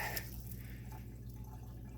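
Hot water runs steadily from a tap, a continuous close-up rush and trickle with no pauses.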